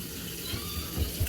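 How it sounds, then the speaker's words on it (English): Water running from a kitchen tap, a steady hiss of flow with a few soft low thumps and clatters near the end, heard alone without talk. "I don't know why that water is even running over there."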